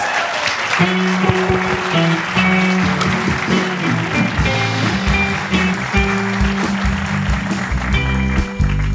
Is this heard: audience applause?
yes